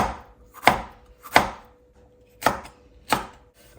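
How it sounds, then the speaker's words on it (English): A knife chops a tomato into small pieces on a board: four sharp, close chops with short, uneven gaps and quiet between them. "Scoop out the tomato and then cut it into small pieces"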